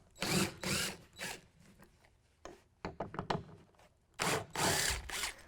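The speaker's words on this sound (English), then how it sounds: "We're going to use a T40 Torx bit to pull those out." A power driver with a T40 Torx bit backs out tie-down fasteners near the bulkhead of a 2016 Toyota Tacoma bed, heard as several quiet whirring bursts separated by brief ratcheting clicks and pauses.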